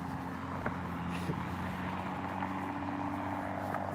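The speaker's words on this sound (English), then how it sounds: "I hear an engine sound right now." A faint engine rumbles outdoors near a street, a steady low hum from a passing or idling vehicle that stays distant and even with no voices.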